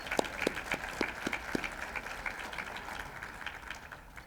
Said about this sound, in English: I think we should all give ourselves a round of applause